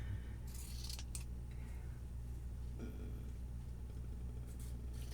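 Scissors snip through paper while cutting out a truck shape for a handmade quilted card, giving a few short crisp cuts over a steady background hum.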